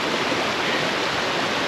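A rain-swollen waterfall at Ricketts Glen State Park gives off a steady, loud, broadband rush of falling water, with no voices over the short stretch.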